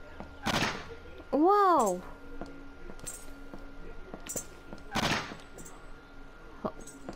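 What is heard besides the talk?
gunfire from the video game Jazzpunk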